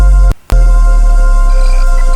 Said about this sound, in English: We have this big old bass drop.